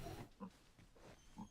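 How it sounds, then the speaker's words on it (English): A pig in Dragon's Dogma 2 gives a few short, faint grunts and snorts in quick succession over soft background ambience, with no speech. "A pig."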